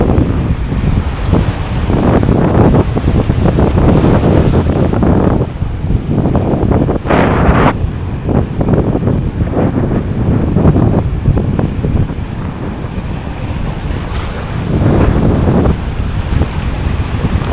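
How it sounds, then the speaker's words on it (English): Strong wind blasts across the microphone on a sea shore on a morning of permit and jack fishing, a loud, continuous roar with surf washing underneath and gusts swelling and easing. "And that wind is kicking ass this morning."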